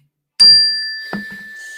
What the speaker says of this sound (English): When you hear the bell, when you hear the mindfulness bell, everybody just take a deep breath